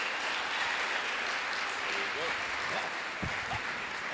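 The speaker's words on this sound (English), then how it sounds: "Let's give another hand of applause to the ANHC dancers" A conference audience applauds the ANHC dancers at an Alaska university event: a steady, wash-like roar of applause heard from a distance, with faint voices and a couple of low thumps near the end.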